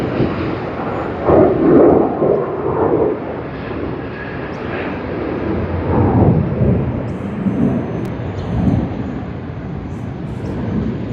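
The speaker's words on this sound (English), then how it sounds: "Yep, Quantas' Boeing 787-9 Dreamliner making its way" A Qantas Boeing 787-9 Dreamliner rumbles past at Sydney Airport, a broad, steady roar with low swells that rises and fades across the clip, heard at moderate distance with no talk.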